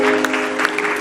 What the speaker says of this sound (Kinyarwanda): Niba ari byiza komera Imana amashyi menshi cyane.